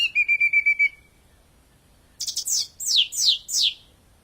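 Birds around a golf course chirp loudly and close by, starting with a rapid string of short whistles, then after a pause a series of downward-sweeping shrill calls.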